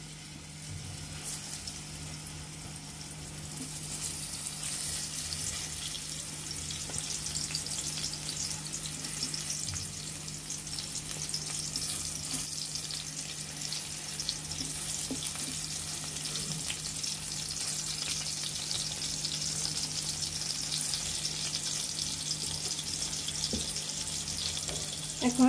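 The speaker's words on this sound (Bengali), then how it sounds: "আমরা কড়াইতে তেল দিয়ে দিয়েছি। এখন আমরা বেগুনের রিংগুলো দিয়ে দিব।" Eggplant rings frying in hot oil in a wok, a steady close sizzle that swells and grows brighter after the first few seconds and carries on unbroken, with no talk.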